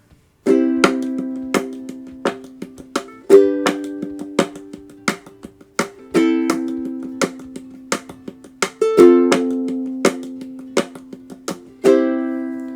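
Ukulele chords strummed up close in a steady pattern, each ringing chord punctuated by short muted percussive chucks, with no talking.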